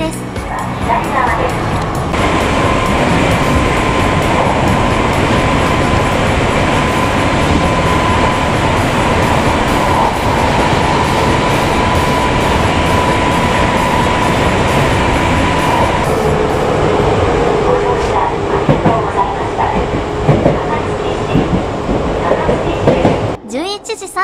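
A Hankyu Kyoto Line local train running, recorded from inside a car, with a loud steady rumble of wheels and motor that holds throughout, a brief tonal shift partway through and a drop-off at the very end.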